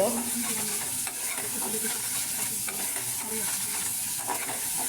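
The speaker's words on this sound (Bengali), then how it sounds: "মশলাটা ভালো করে কষিয়ে নিয়েছি" Spice paste for taro stolon curry being stirred and fried in a pan, a continuous sizzle with occasional scraping strokes of the spoon, close and steady with no talking.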